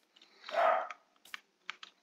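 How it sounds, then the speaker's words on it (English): A Pembroke Welsh Corgi gives one short, fairly close bark, followed by several brief clicks and taps. "that's probably my dog."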